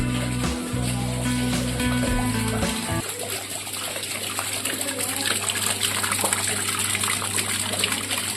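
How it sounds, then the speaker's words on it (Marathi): Water running continuously through a decorative model waterfall, a steady close splashing and trickling rush that continues throughout with a low hum in the background and no speech. "इथून धबधबा दाखवलाय."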